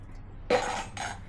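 Metal cooking vessels and lids, including a puttu steamer lid, clink and clatter during dish washing, two quick bright knocks of utensils against each other over a quiet background.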